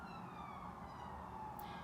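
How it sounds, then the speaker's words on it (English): Emergency vehicle sirens wail outdoors at a distance, a steady faint rising and falling tone over low traffic rumble and background hiss, with no voices. "You can definitely hear the sirens."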